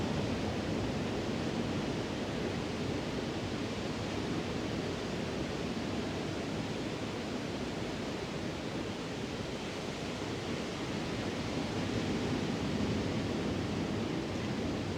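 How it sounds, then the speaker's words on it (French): Ocean waves heard from the shore, a steady broad rushing wash of surf filling the whole stretch without pause, no voices. "le bruit des vagues"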